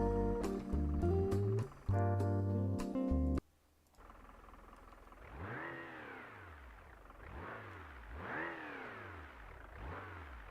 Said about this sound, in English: It actually sounds a little bit like a diesel.